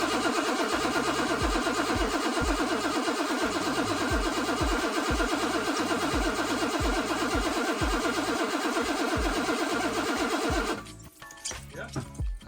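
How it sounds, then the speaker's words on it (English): BMW E23 engine with its rocker cover off, turned over by the starter to check oil feed: a loud, rhythmic cranking chug repeating steadily for about ten seconds, then stopping into scattered clunks and rattles. "We are then taking the rocker cover off in prep to turn the engine over and see if we get oil fed to the top of the engine."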